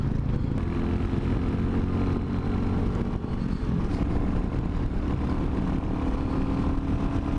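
A Royal Enfield Classic 500 motorcycle engine pulls uphill through the gears, a loud continuous low rumble close to the rider with steady throttle and no voices.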